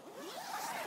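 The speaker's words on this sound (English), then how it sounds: "you can zip it up like so" A zipper drawn along the clear PVC window curtain of a Vango Galli Compact awning, one quick continuous rasping pull lasting under a second, close by with no talk over it.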